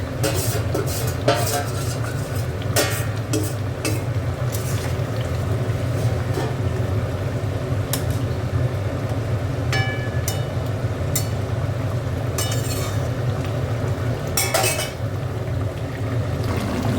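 Eggs go into a pan of simmering Bengali egg curry with new potatoes: steady bubbling under repeated close metal clinks and scrapes of a spoon against the pan, continuing without pause.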